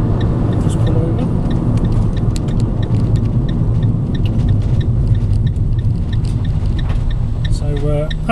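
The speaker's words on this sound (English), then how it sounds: "So that concludes the short test drive, just to give you an idea of how they drive" A Citroen Nemo 1.4 LPG van driving on a test drive, steady loud interior road and engine rumble with faint clicking, heard from inside the cab.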